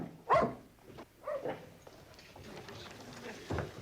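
A dog barks a few times in a quiet room, with a sharp bark near the start, a softer one a second later and another toward the end, over a faint background hum.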